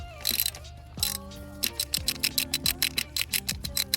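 A ratchet clicks rapidly in short bursts while loosening a spark plug on a Vauxhall Corsa engine, close and crisp, with brief pauses between strokes.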